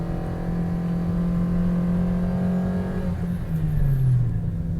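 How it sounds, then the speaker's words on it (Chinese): Toyota Vios 1.5G with the 2NR engine climbing the mountain road to Genting, a close, sustained engine drone holding a high pitch, then its tone dropping and rising again with a gear change near the end. "你就是一直要跟这个高亢的引擎声浪做朋友"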